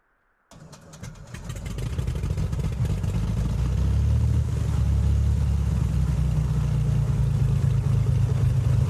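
A Beechcraft Baron B58 twin piston engine in Flight Simulator X starts from silence after half a second and swells into a steady, loud low drone with rough clatter, holding near idle for the rest of the stretch.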